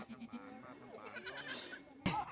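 Goats on a goat farm near Pranburi Dam in Prachuap Khiri Khan, Thailand, bleat in wavering cries while climbing onto a log, amid faint background voices, followed by a sharp knock or clatter at the end.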